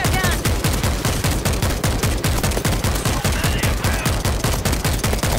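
A heavy video game gun fires in a fast, steady automatic stream of loud, evenly spaced shots that continue without pause.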